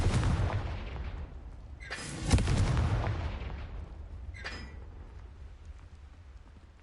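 In Hogwarts Legacy, a Confringo fire spell goes off as a loud, booming blast that fades into a long rumbling tail, followed by a second, softer burst, with no talking.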